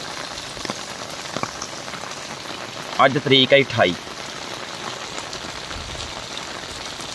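Steady heavy rain hisses throughout, with someone speaking briefly over it midway.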